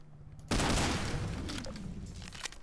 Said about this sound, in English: Ricochet, explosion, scanner death.